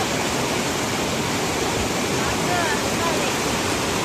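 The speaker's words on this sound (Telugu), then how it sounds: "నీళ్ళు ఇగో ఫ్లో ఘోరంగా ఉన్నది" Strong rushing water roars as a steady, dense wash of noise, close and loud, with no pauses and no clear voices.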